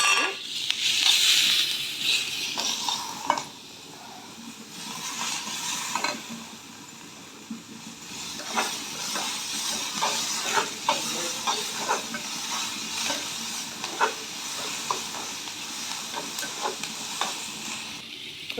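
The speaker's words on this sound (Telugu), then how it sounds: "తాలింపు వేగింది, ఆనియన్స్ యాడ్ చేయాలి." Tempering spices hit hot oil in a pan, and onions with curry leaves then sizzle and crackle steadily for a sour buttermilk curry. A spoon scrapes and stirs at close range in a rhythmic pattern, with no talking.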